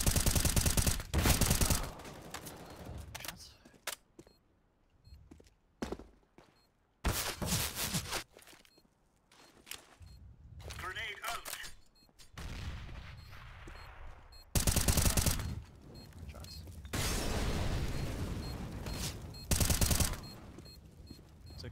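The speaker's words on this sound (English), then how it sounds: "Shots." Gunfire in CS:GO, several loud bursts of rapid shots separated by quieter gaps, with some footstep-like scuffing in between.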